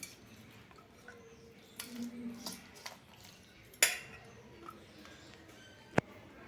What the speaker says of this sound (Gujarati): ને હલાવી લઈશું, મિક્સ કરી લઈશું।